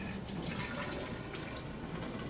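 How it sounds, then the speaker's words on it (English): Hydrogen peroxide poured into a graduated cylinder makes a steady, close rushing liquid stream that runs continuously without a break and without talk. "we start off by pouring the hydrogen peroxide into the graduated cylinder"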